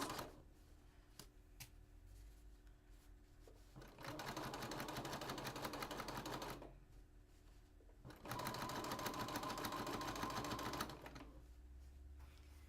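A sewing machine stitches a quilt hanging sleeve in two long runs of steady, fast motor whir and needle clatter, each lasting about three seconds, separated by quiet pauses with faint handling noise.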